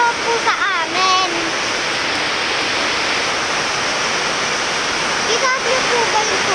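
Water pours steadily into a flooded home during heavy rain, a constant loud rushing wash that runs the whole time, with brief voices and chirpy tones rising over it near the start and end.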